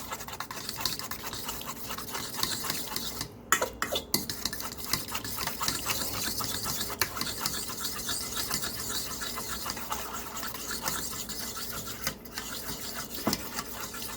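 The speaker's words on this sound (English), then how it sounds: "go ahead and use a fork or a whisk and mix it all up" A fork or whisk mixes thick satay sauce in a bowl, giving a continuous scraping, rubbing stir with steady rhythm and a few brief knocks, close and fairly loud, no voices.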